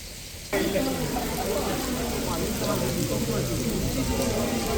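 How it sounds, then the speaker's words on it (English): A steady, dense hiss of rain starts suddenly and keeps falling evenly, close and fairly loud, outdoors in Florence, Italy. "It's raining, it's getting heavier."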